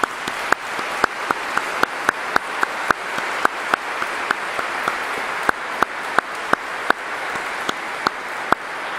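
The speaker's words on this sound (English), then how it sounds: "deserves a special round of applause" A congregation at a Divine Word Missionaries profession of perpetual vows in a parish church claps after the music, a thin, steady applause marked by regular sharp individual claps standing out in an even rhythm throughout.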